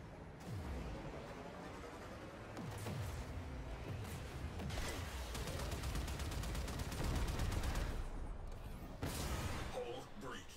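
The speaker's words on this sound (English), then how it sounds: "Launch torpedoes." Railjack spacecraft torpedoes and guns in the sci-fi game Warframe: dense continuous gunfire with rapid rattling bursts and heavy impacts, loud and busy, with voices speaking over parts of it.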